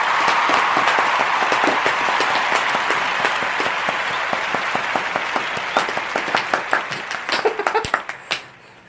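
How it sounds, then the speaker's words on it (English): A small group gives a round of applause, steady clapping that thins out toward the end into a few scattered individual claps before stopping. "we're going to give you guys a little round of applause here for listening to us in 2017"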